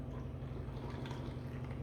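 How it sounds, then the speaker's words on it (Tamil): Water being poured into a masala mixture for banana flower kuzhambu, a steady close liquid fill with soft dripping and sloshing running continuously. "நம்ம வீட்டுக்கு தேவையான குழம்புக்கு தேவையான அளவு தண்ணி சேர்த்தாச்சு"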